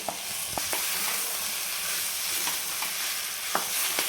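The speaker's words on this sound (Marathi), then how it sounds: "हे बटाटे जे आपण मॅश करून घेतले होते कुक करून ते टाकून घेणार आहे" Cooked mashed potatoes tipped into a pan and stirred, a steady close frying hiss with scattered light taps and scrapes of the spoon throughout, no talk.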